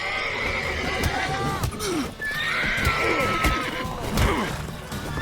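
A horse in The Witcher 3: Wild Hunt neighs and whinnies loudly several times over hoof clops and clattering game sounds, with faint voices in the mix.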